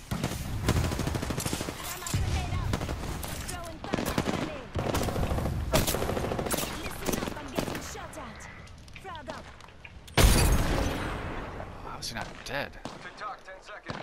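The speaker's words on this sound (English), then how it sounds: "Yeah, wait, let me throw a nade." A Apex Legends battle where rapid bursts of gunfire rattle almost continuously and a sharp grenade blast hits loudly near the ten-second mark, with voices chatting over the shooting.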